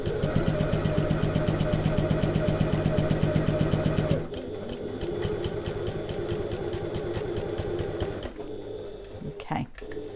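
Sewing machine stitching a handbag with a tiny stitch length, a loud rapid mechanical rattle close up that stops after a few seconds, followed by quieter handling noise and someone talking.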